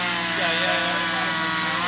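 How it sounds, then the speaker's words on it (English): A small hand chainsaw whines steadily at close range while cutting fallen tree branches after a storm near an RV, a continuous buzzing drone with no breaks. "nice little hand chainsaw."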